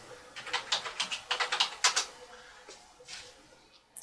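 Someone types a command on a computer keyboard while working on a Dell Optiplex 760, a quick run of about a dozen close, crisp key clicks, then a pause and a few more taps, heard alone without talking.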